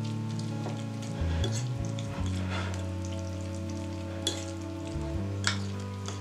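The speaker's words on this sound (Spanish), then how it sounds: "Con la ayuda de un tenedor, vamos a desmenuzar muy bien el atún y lo vamos a mezclar con el resto de ingredientes" A fork mashes and stirs tuna with mayonnaise, pickles and mustard in a bowl, making soft, wet, squelchy scraping sounds with occasional clinks, steady and close beneath a low background hum.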